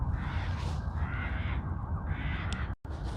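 Crows caw in a noisy chorus from somewhere across the way, with their calls blending into a steady, rough outdoor wash that breaks off briefly near the end.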